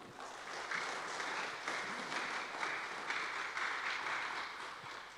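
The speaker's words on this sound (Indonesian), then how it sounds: "Boleh kita beri tepuk tangan yang meriah Bapak Ibu?" Applause from the audience at a formal integrity zone declaration ceremony, steady, even clapping from many people heard at a distance, going on for the whole span without a break.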